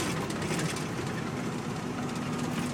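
Rental truck driving on the road: a continuous low rumble with broadband road and cabin noise, steady and fairly loud from inside the cab, with no talk.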